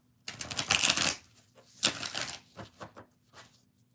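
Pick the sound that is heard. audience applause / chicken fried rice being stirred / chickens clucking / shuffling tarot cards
shuffling tarot cards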